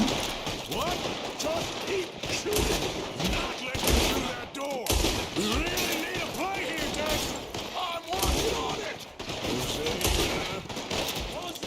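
Red Dead Redemption 2 gunfire cracks in loud, rapid repeated bursts throughout a chaotic firefight, with people talking and shouting over the shots.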